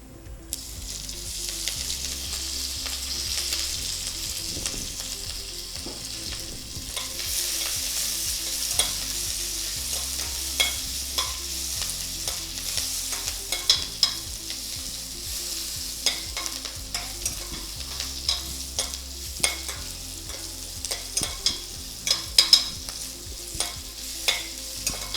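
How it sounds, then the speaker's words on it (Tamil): Spices frying in oil until brown for a masala kichdi, with a steady close sizzle and repeated stirring clicks and scrapes of a spoon against the pan, growing busier toward the end; no talking. "எண்ணெயில் இதெல்லாம் நல்லா வறுபட்டுட்டு பார்த்தீங்கன்னா வெந்தயம் இல்லாமல் நல்ல ப்ரௌன் ஆகிடுச்சு பாருங்கள்."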